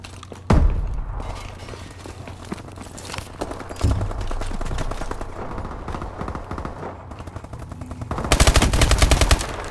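Gunfire in Call of Duty: Advanced Warfare, with a heavy opening shot, scattered thuds and bursts, then a loud, rapid automatic volley near the end, amid game background noise.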